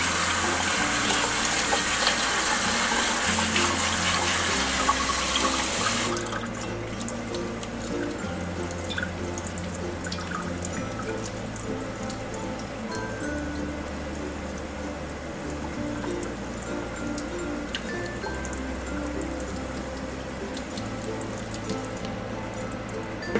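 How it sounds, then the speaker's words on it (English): Tap water runs hard into a strainer of malunggay leaves, a loud steady splashing rush at first that drops to a softer, trickling flow with drips after a few seconds, close by in a kitchen with no talking. "time to rinse the malunggay."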